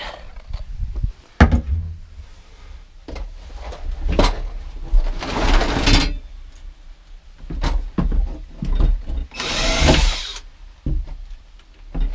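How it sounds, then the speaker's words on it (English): A power drill drives screws into the new bottom door of a cathouse in two loud, close bursts of about a second each, separated by knocks and handling clatter, with no talking. "Put a couple screws down there to hold it."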